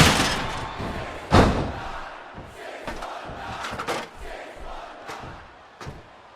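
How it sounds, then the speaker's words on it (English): A roaring arena crowd in the WWE SmackDown vs. Raw 2008 video game during a Money in the Bank match, a constant cheering wash punctuated by heavy slams and thuds. "This sellout crowd just can't get enough of these superstars."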